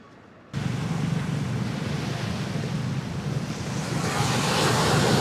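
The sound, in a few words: waves of the sea on Vietnam coast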